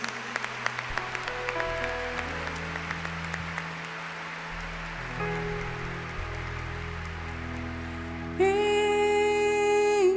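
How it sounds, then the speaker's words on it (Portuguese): Congregation at a Catholic Mass applauding the Gospel reading, a steady, moderately distant patter of clapping from many hands filling the church, followed near the end by sustained organ or keyboard chords. "Aplauda a palavra de Deus."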